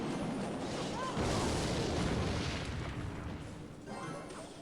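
A Rocket spell lands in Clash Royale, a deep booming blast that swells into a rumbling roar and fades away, with a smaller burst near the end.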